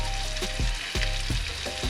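Kob fish fillets sizzle steadily in a hot frying pan, a continuous loud crackle with periodic stirring or scraping pulses, close up and alone without talk.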